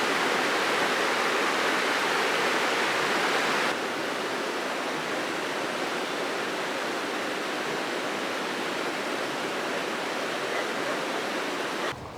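The River Tees rushes past a riverside campsite in the North Pennines, a loud, steady broadband roar of flowing water that runs unbroken throughout with no voices.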